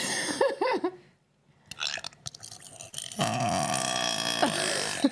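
A long, croaking burp rises after a pause, preceded by some short vocal noises; the belch is close and drawn out.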